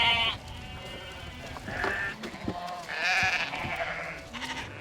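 A flock of sheep bleats while being herded on a UK farm, several overlapping calls near and far, some long and wavering, over faint outdoor background.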